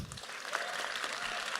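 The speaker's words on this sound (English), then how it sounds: "please join me one more time with a round of applause as we welcome our panel and our host" An opera audience at a panel event gives a brief, dense round of applause welcoming the panel and host, steady clapping heard at a fairly low level from a distance.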